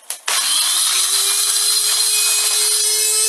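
A kitchen blender grinds walnuts in advance for pesto and beet spread, starting with a brief burst and then whirring loudly and steadily with a sustained motor hum.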